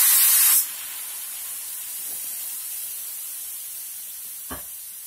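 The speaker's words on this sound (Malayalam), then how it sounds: "ഇനി എടുത്തു വച്ചിരിക്കുന്ന വിനാഗിരി ചേർത്ത് കൊടുക്കാം." Vinegar hitting a hot pan for Kerala-style tuna fish pickle: a sharp hissing burst at first, then a quieter steady hiss.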